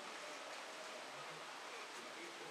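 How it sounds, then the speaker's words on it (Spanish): Water poured out of a window, heard as a faint, steady rushing splash that holds evenly from start to end. "están echando agua por la ventana."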